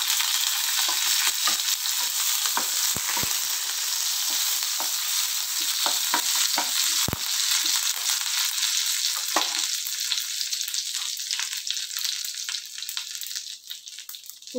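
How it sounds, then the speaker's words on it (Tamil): Mustard seeds and curry leaves spluttering in hot oil, a loud, close, dense crackling sizzle with scattered sharp pops, easing slightly near the end. "கடுகு போட்டிருக்கேங்க, பொரியுது"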